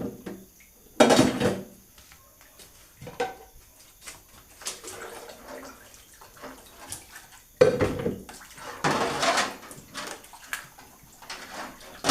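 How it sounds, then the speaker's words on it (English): Pots and dishes being washed by hand, with metallic clanks and scraping bursts and runs of splashing water recurring at an irregular pace, close and fairly loud, with no talking. "Wash my pots"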